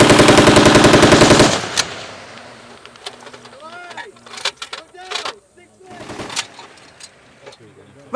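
Marines fire an M240 medium machine gun at a live-fire range at Camp Hansen, Okinawa. One loud, rapid, sustained burst stops abruptly, then scattered voices and birds are heard in the quiet afterward.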